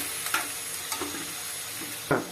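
Onions frying in a pan for an onion and tomato curry, a steady low sizzle with a few soft stirring scrapes, the loudest one near the end.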